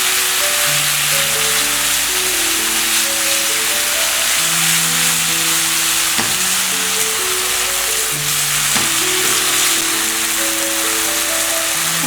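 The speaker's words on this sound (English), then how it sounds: "I'm going to fry it for another 2 to 3 minutes" Steady, loud sizzling of masala frying in a hot pan, a constant crackling hiss with no voices.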